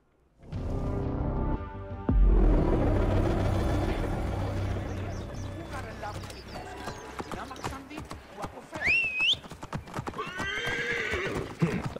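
Rhythmic hoofbeats of a galloping horse in Assassin's Creed Origins, with a loud whinny partway through, set against game sounds and a voice talking over it.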